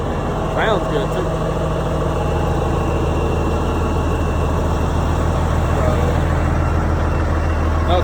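A 2000 Volvo truck with an N14 Cummins diesel idles steadily in a parking lot, a deep, even rumble heard up close and continuous throughout.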